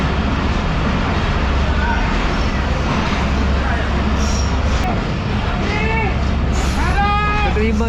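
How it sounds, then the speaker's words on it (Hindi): Shalimar Express train pulling into Khanewal Junction railway station, a steady loud rumble of the arriving train with low engine drone, rising squealing brake tones near the end, and chatter from the platform. "28 डाउन शालीमार एक्सप्रेस अब पहुंच रही है खानेवाल जंक्शन रेलवे स्टेशन"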